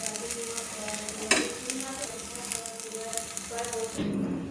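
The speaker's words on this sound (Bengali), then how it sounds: "পুরটাকে একটা খুন্তি দিয়ে নামিয়ে নিচ্ছি।" A metal spatula scrapes and stirs pea filling in a wok with the gas switched off, giving repeated scratchy strokes and one sharper knock, fairly close, with light residual sizzle and no speech.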